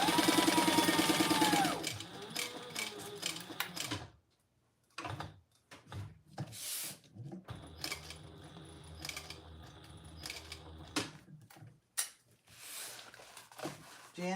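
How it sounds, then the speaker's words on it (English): A sewing machine stitches a Monarch mini quilt block in short bursts with brief pauses, mechanical clicks and rattles around it, and a voice talking faintly at times. "I'm going to sew my box"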